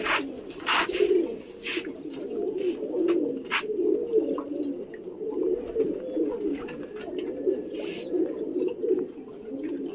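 A flock of pet pigeons coos continuously at close range, overlapping low murmuring calls with occasional wing flutters and clatters around water dishes.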